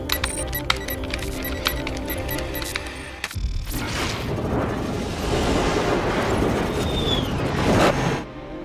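A film excerpt erupts into heavy gunfire and crashing debris: a rapid train of sharp shots gives way to a dense, roaring barrage with booms and clatter, loud and continuous.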